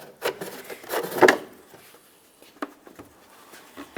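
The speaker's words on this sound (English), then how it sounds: "Continue on to grabbing onto that tail lamp assembly. Give it a little wiggle to pull it away from the vehicle." A plastic tail lamp assembly is wiggled loose from a 2003-2011 Mercury Grand Marquis, giving a short scraping rub and a few light knocks that peak in one brief burst, then sparse small clicks.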